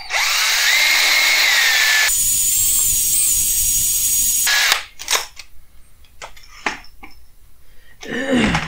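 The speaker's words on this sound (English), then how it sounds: "you want to take the hone and the back of the bearing is back here, and you want to hone out the back just slightly bigger than the middle and the top area" A power hone whirs loudly and steadily inside a differential's pinion bearing bore for several seconds, then stops, followed by scattered clicks, knocks and handling noises of the tool and metal parts.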